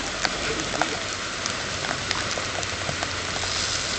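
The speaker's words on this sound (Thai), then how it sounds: "ฝนก็ยังลงมาเรื่อย ๆ นะครับครับ" Steady rain falls at a fishing park in Chiang Mai, a dense, even patter of drops with scattered sharper taps throughout, while a voice talks faintly underneath.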